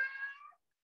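A single short cat meow, fairly faint and close, lasting about half a second and heard alone, with nothing after it.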